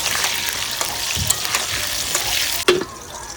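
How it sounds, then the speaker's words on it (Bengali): Potatoes frying in hot mustard oil, a continuous crackling sizzle with stirring scrapes and a sharp clatter of a utensil near the end. "ভেজে নেব।"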